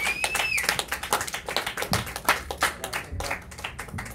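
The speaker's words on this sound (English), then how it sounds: "Eat that applause." Audience applause and clapping after a stand-up comedy set at a comedy club, a dense run of hand claps with a whistle near the start, fairly close and steady, tapering slightly toward the end.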